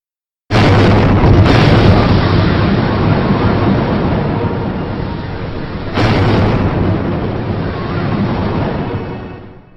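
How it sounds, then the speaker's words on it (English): Explosives blast the giant Bamyan Buddha statues in Afghanistan: a sudden loud boom, then a long roaring rumble of collapsing rock, with a second blast partway through, alone and heavy. "Using explosives, they destroyed them in an act of outrageous vandalism."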